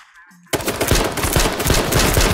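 Automatic gunfire from a weapon in the battle-royale video game H1Z1 erupts after a short quiet stretch, a loud, rapid, sustained burst of shots that continues to the end.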